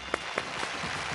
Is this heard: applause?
yes